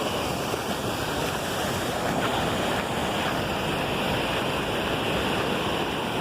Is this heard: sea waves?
yes